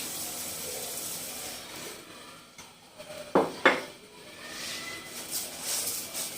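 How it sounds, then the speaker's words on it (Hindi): Flaxseed, about 250 grams, tipped into a dry iron wok and stirred for roasting, giving a faint rustle and a few sharp metallic scrapes and clinks near the middle, with no talking over it. "मैंने एक पैन ले लिया है, लोहे की कढ़ाई ली है मैंने"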